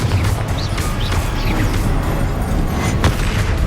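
A Confringo spell explodes in the Hogwarts Legacy video game. A dull booming crash lands over loud, continuous battle noise, with scattered whooshing and cracking impacts over about four seconds and no clear voice.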